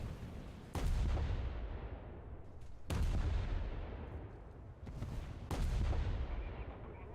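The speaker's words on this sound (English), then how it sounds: "I hear a bomb." Bombs exploding in War Thunder naval combat: three heavy, deep booms about two seconds apart, each hitting hard and rolling into a long rumbling tail, over a constant low background roar.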